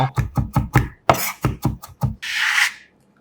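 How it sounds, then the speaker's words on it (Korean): A knife coarsely chops whole garlic cloves on a board: about ten close, even chops in quick rhythm, then a short scraping swish and silence. "빠질 수 없는 조연 통마늘 2개는 굵직하게 다져 향이 살아나게 준비해주세요"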